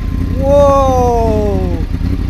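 Big motorcycle engine cranking to life: a rising-then-falling whine of the starter over a low rumbling idle, steady and close, about two seconds long.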